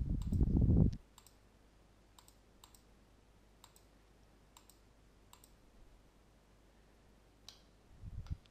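Computer mouse clicks while selecting lines in MicroStation CAD software, about a dozen sharp, isolated clicks at irregular intervals in a quiet room, with brief bursts of louder noise at the start and end.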